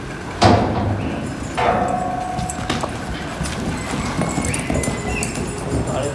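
Hooves clop on ground as a horse breaks out of the chute for a Mexican coleada, close and rhythmic, with a sharp metallic bang near the start and people talking over the steady hoofbeats.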